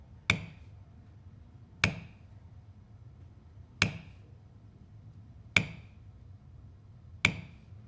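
A 16-ounce mule's foot maul strikes leather tools on a workbench: five sharp, isolated knocks spaced a second or two apart, each with a short ringing tail, in a quiet room.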